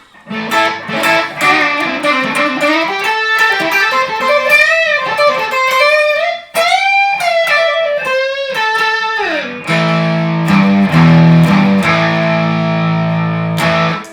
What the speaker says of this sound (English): Get a little distortion with the Timmy pedal.